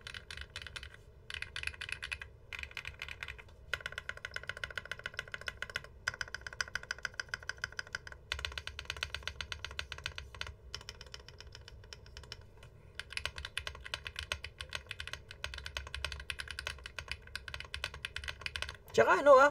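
Rapid, steady clicking of keys on a Rakk Sinag Pro mechanical keyboard, close and continuous, with short pauses and a low hum underneath.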